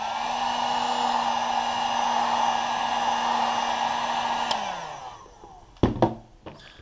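A heat gun blows hot air onto a shoe sole protector on a Jordan VI heel, a steady loud whooshing hum that winds down near the end, followed by a few handling knocks.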